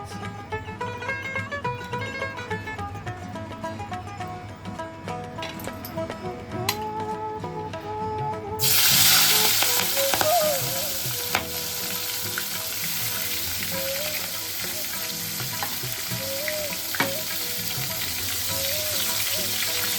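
Prawns fry in hot oil in a wok with a steady, close sizzle that swells into a loud, dense crackle partway through and holds to the end, with no talking.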